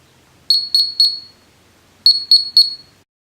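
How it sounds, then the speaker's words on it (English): A Memo Box Mini smart pill box gives two quick bursts of three sharp, high electronic beeps each, close and clear, with silence between the bursts. "The box will flash and beep several times after pressing the ping button."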